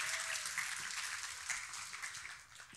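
Applause from a church congregation during an Easter resurrection service, a broad, steady wash of clapping that fills the room and holds throughout, moderately distant with no voices over it.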